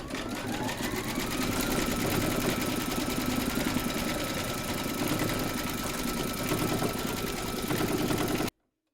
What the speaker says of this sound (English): Load your thread colour for the quilting into your machine and then stitch round number 5